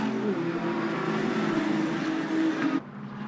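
Race cars lapping Donington in a 2021 GT Cup race, including a Radical RXC weaving through traffic, their engines droning loudly and steadily with a sustained whine before the sound cuts off abruptly near the end.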